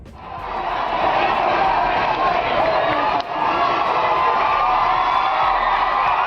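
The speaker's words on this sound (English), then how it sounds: "You want to know how good this crowd is here tonight?" A large WWE WrestleMania arena crowd roars and cheers continuously, with whoops rising out of a dense, sustained wall of noise that swells early and stays loud throughout.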